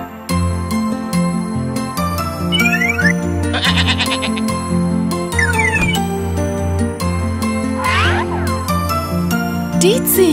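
Repeated goat bleats, loud and near, rise in short quavering bursts over continuous background music with some jingling tones.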